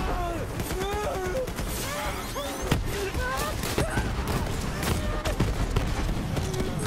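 Sniper rifle fire in the Borderlands 3 video game, with sharp cracks scattered among constant battle noise and chirpy game effects, heard under busy action.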